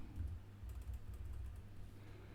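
Typing on a computer keyboard, a faint quick patter of soft key clicks in short bursts against a low background hum, quiet and close.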